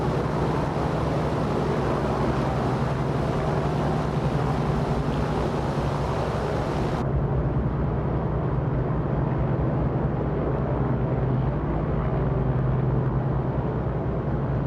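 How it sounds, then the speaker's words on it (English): Airplane engine in Microsoft Flight Simulator droning steadily after takeoff, a continuous broadband hum with airflow noise that turns noticeably duller partway through, with no talking. "This airplane sounds pretty good."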